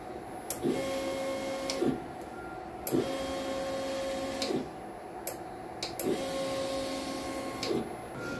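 An inkjet printer runs a nozzle check, with its print head carriage sweeping back and forth in three repeated passes, each with a whirring motor tone and clicks at the turnarounds.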